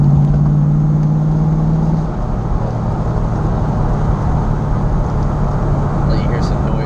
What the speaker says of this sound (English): It sounded better when I had the Flowmasters on it, but this MagnaFlow sounds pretty good.